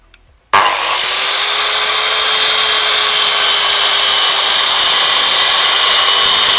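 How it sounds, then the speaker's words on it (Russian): A Metabo KGS 216 miter saw starts up and cuts a board square at 90 degrees, a loud steady high whine that begins abruptly and holds without a break. "Отпилим под 90,"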